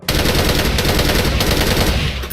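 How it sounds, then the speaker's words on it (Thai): A loud, unbroken burst of automatic fire from an HK417 mod2A rifle with an EOTech sight in the game Special Force 2, with shots rattling in quick succession for about two seconds. "แต่ถ้าเรายิงเป็นชุดๆเนี่ย"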